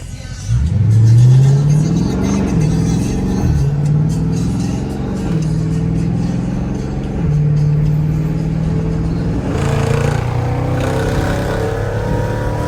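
A car cruising slowly around a city block, its mid-range engine droning steadily and rising in brief revs, heard close from inside or near the vehicle with no talking.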